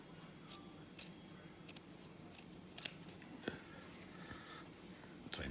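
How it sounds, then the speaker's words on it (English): Scissors snip stitches in a series of small, close, quiet clicks spread across the clip, over a low background hum. "When you're cutting here, try not to cut the end of your stitch"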